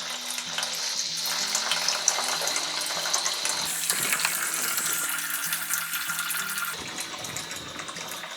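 Water runs steadily from an opened radiator bleed valve into a tray below, a continuous close hissing trickle and splash that stays even throughout.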